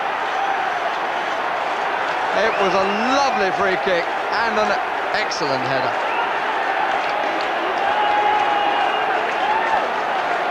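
Football crowd at a 1993 FA Cup fourth-round tie between Norwich City and Tottenham Hotspur, applauding Teddy Sheringham's headed goal; a steady broad roar of clapping and cheering runs throughout beneath continuous commentary.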